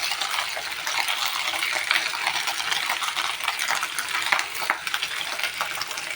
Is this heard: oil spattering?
yes